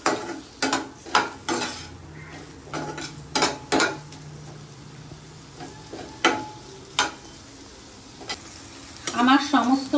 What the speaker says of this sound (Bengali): এবার ওই বাটারের মধ্যেই ক্যাপসিকাম আর টমেটো এটা ভালো করে ভেজে নেব।